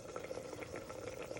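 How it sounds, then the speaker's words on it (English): Chicken boils in a pot on the stove, a close, quiet bubbling with rapid small pops over a steady simmer, no voices. "is into a boiling point that we can see."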